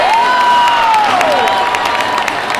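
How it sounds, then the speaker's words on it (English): A stadium crowd at a White Sox vs. Cubs Crosstown Classic game at Guaranteed Rate Field roars and cheers loudly after Jose Abreu hits a double. The sustained applause and shouting run throughout, with a rising whistle or whoop near the start. "Crowd's going wild"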